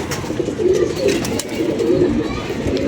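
Pigeons cooing close by in a loft, a steady run of low throaty coos repeating throughout with no talk.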